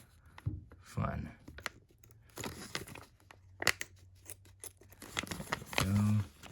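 A tough material is cut by hand while storing welding rig consumables, heard as scattered snipping and crunching snaps at close range. Someone talks quietly throughout.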